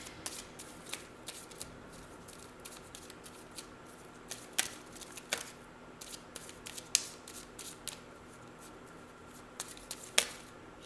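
Tarot cards shuffled and drawn by hand make soft, close riffling and papery flicks, with a few sharper snaps as cards are slid out, faint over a low background hiss and no talking.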